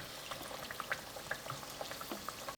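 Kachori frying in hot oil, three at a time in a home kitchen, giving a quiet steady crackle and bubbling with scattered sharper pops, close and alone.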